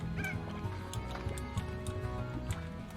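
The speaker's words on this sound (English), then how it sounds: "Oh, there's chickens up there." Chickens in the video game Slime Rancher cluck in a busy, overlapping flock, with short repeated calls and a few higher squawks over a steady background hum, moderately loud and close.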